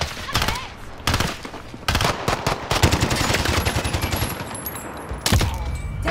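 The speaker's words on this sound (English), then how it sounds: "Enemy sentry gun active." An enemy sentry gun in a video game opens fire in loud, sustained automatic bursts broken by short pauses, close and dominant for about six seconds, with no talking over it.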